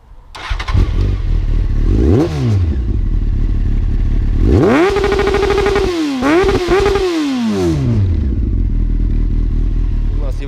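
A Honda CBR900RR sport bike starts up, then its exhaust is revved in a few sharp rising and falling bursts, loud and close, with a rough idle between the throttle blips.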